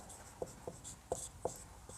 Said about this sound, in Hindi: तो सबसे पहले इसका फार्मूला लिख लेंगे।